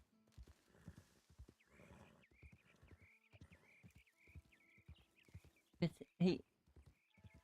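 A horse's hooves clip-clop in a steady trotting rhythm in the Red Dead video game, moderately close under ongoing talking, with a louder snort-like burst near the end.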